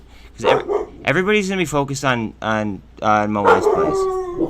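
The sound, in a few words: dogs barking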